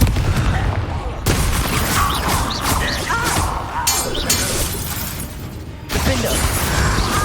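Confringo fire spells cast in Hogwarts Legacy erupt as a rapid barrage of explosive blasts and shattering crashes, loud and dense, broken by short pauses, with a voice faintly present.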